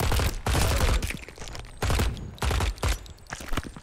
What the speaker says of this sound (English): The recoil on this gun is freaking epic